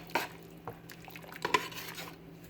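Quiet stirring of rice and peas in a pot, a few soft scraping clinks of a utensil against the metal, spaced irregularly with little else around.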